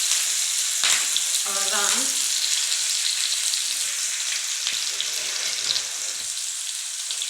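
Vera fish fries in a pan with curry leaves, a steady broadband sizzle running throughout, close and fairly loud, with brief clinks and a short spoken word partway through.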